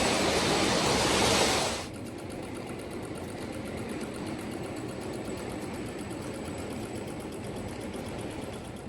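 A newly unboxed model train engine with flywheels runs steadily with a continuous whirring hum and a faint tinkling, rubbing rattle; a louder burst opens before it settles into an even drone.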